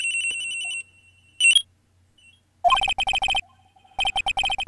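A cell phone rings in the video game Ace Attorney with bursts of rapid electronic trills, loud and close, interrupted by short gaps and a brief tone.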